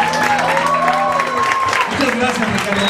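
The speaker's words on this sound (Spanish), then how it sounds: "Vamos a darles un aplauso para todos nosotros." Audience applause at a live show where the Dragon Ball Z opening Cha-La Head Cha-La is performed, steady clapping filling the room with a sustained tone and voices running over it.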